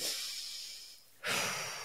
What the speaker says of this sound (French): Là, je prends une respiration.